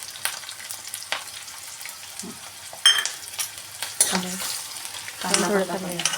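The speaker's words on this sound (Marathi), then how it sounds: "तेल उडतंय थोडंसं हातावर" Turmeric, asafoetida and chillies fry in hot, splattering oil for a potato curry, a soft crackle broken by a few sharper pops and spoon scrapes, with brief voices and kitchen clatter in between.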